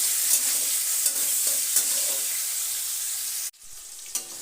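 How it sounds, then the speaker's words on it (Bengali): Prawns frying lightly in hot oil for a chingri and chal kumra dish, a steady close crackling sizzle with small pops that cuts off abruptly near the end, then resumes faintly. "তেল গরম হয়ে গেছে, চিংড়ি মাছটা ভেজে নিতে হবে"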